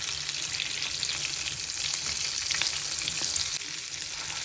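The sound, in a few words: fish frying in a pan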